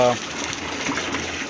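Water gushes onto a 5 kg coco peat block, a continuous rushing pour that runs steadily at close range for the whole moment, with someone speaking briefly at the start.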